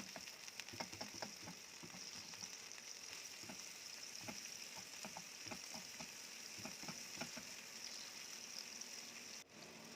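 Minced meat fries in hot oil with a steady, faint sizzle as a spoon breaks it apart in the pan, tapping and scraping in irregular bursts throughout, and no one talks.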